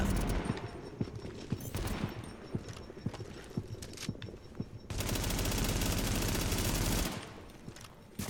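Gunfire in The Division video game, a series of crisp shots over a busy background, then a dense, sustained burst of loud fire lasting a couple of seconds before easing off.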